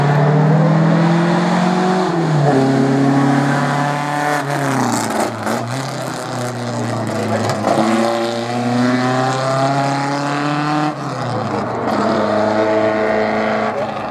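A Ford Mondeo touring race car, one of the original team cars, is driven hard at speed. Its loud engine howls through repeated rising revs and sharp gear shifts, close and alone.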